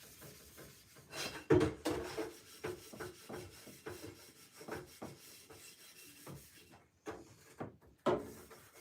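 A pan is scrubbed with soap while a kitchen is being cleaned, producing repeated close rubbing and scouring strokes in an uneven rhythm, with short pauses between bursts and no talk.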